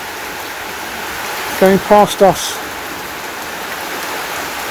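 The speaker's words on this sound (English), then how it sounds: "Helps to get the water from down the side of the neighbour's place going past" Rainwater flows steadily through a shallow outdoor drainage ditch in a continuous hiss of running water and rain, with a brief burst of speech partway through.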